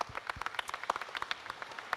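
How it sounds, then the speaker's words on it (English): Audience applause at MINECON 2015, a Minecraft convention: a dense, steady patter of many hands clapping at once, fairly close and even in level for the whole stretch, with no voices over it. "This round of applause is for you guys."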